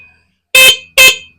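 Three short, loud horn beeps from an SYM Bonus motorcycle sound in quick succession, each a bright buzzy honk separated by brief silence.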